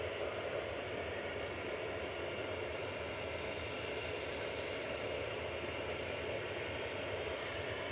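Airliner inbound from Bahrain touching down at Manchester Airport, a faint, steady distant engine rumble held evenly throughout with no clear peak.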